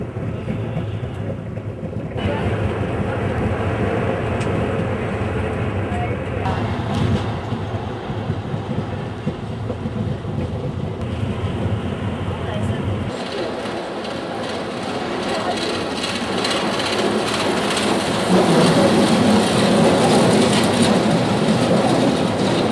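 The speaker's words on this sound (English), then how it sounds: "The prototype articulated train in" A prototype articulated train from 1963 rumbles continuously along an 8-mile line, a loud steady rolling roar with faint rail clatter that shifts in tone partway through and swells near the end.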